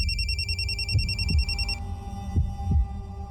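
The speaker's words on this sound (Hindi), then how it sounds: "ये फोन किसका बज रहा है?" A telephone rings in a repeating electronic ringtone pattern that cuts off partway, while low thuds and room noise continue underneath, with no talk.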